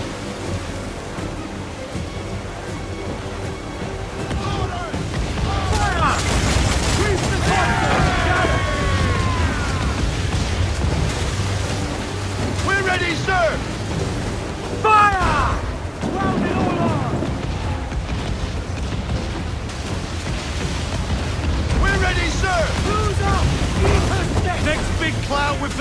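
Pirate ship cannons firing in a naval battle in the video game Assassin's Creed Black Flag, several deep booming blasts over rolling ocean surf and wind, with heavy rumbling throughout.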